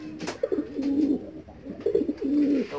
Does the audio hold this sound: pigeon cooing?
yes